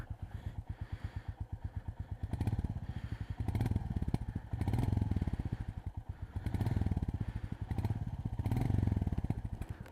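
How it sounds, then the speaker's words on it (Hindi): A Royal Enfield Goan Classic 350 motorcycle's exhaust thumps in a steady, rapid single-cylinder rhythm nearby. It swells louder in several repeated surges as the throttle is blipped, and no one speaks. "सबसे पहले let's hear the exhaust note."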